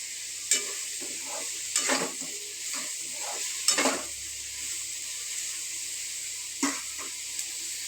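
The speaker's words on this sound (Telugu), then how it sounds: "నూనె కొంచెం కాగిన తర్వాత మనము ఇందులో ఉల్లిపాయలు, పచ్చిమిరపకాయలు వేసుకుని వేయించుకోవాలి." Onions and green chillies frying in hot oil for a cashew paneer gravy, a constant soft sizzle broken by four louder scraping stirs of a spoon against the pan, close and without talk.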